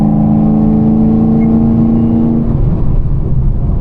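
A Chevrolet Camaro ZL1 accelerates in sixth gear, its engine holding a loud, steady droning tone close by that fades into broadband road rumble after a few seconds.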